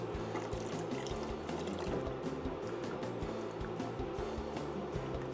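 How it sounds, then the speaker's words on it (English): Flour and broth mixture poured back into a pot of broth for beef stroganoff, a steady liquid pour with clinking and stirring clatter, moderately quiet with no talk. "And we're just gonna add this back into the broth."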